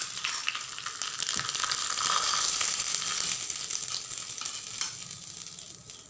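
Curry leaves sizzle and crackle as they hit hot oil for a ridge gourd and carrot chutney, a steady bright frying hiss with small pops throughout, close and fairly loud, with no talking.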